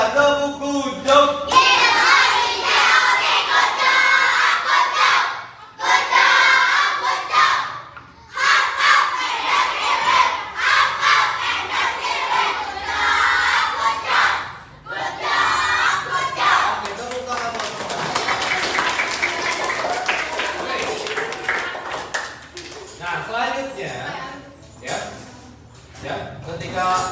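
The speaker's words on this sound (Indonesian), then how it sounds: "coba tepuk kunjung lagi yang keras, keluarkan suaranya" Children's chant with rhythmic clapping in an Indonesian classroom coding lesson, loud shouted voices and claps in bursts with brief pauses, an adult voice leading between rounds.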